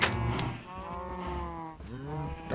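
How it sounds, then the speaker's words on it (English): Two long, low Minecraft cow moos, one after another, fairly close, with a brief gap between them and no talking. "darn cows, they're loud"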